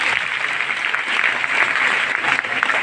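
Loud, steady audience applause fills a large event crowd at a company mega-event, dense continuous clapping without a break, close and full for the whole stretch.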